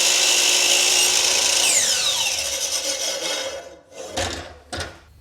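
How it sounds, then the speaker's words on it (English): A miter saw cuts through wood with a loud, close whine that spins down with a falling tone, followed by a few clattering knocks as the piece is handled. "So I'm gonna do this on the miter saw, I think."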